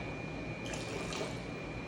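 Pool water is poured carefully out of a small chlorine test vial, giving a soft, close, continuous trickle and splash lasting a couple of seconds.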